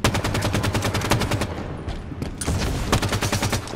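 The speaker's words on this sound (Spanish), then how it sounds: "Yo estoy disparando los lanzacohetes" Rapid, repeated explosive firing from rocket launchers in Halo 5, a steady series of loud bursts with a brief pause midway before the barrage resumes.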